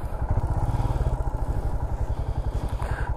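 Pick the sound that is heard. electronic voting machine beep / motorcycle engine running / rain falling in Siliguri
motorcycle engine running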